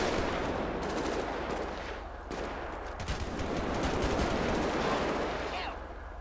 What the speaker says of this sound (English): Got shots fired at us.